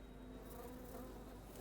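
Steady insect-like buzzing of bees during The Pain boss fight in the video game Metal Gear Solid Delta, a continuous droning swarm with no voices over it.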